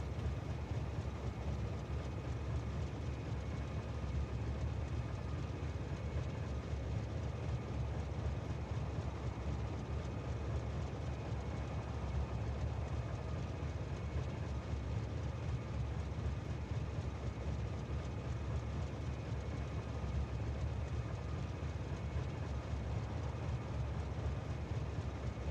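A train hauling iron in the factory game Factorio rumbles past with a steady, dense mechanical drone, constant and moderately loud throughout with no talk over it.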